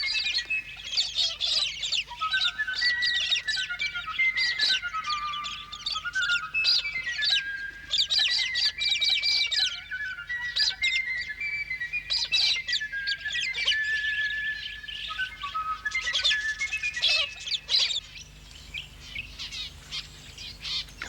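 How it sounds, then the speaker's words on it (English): Flock of wild budgerigars in the Australian inland, a dense, continuous chatter of many high chirps and warbles, close and lively throughout. "the swift flight of a flock of budgerigars as they twist and turn in unison, then land to scurry through the grass feeding"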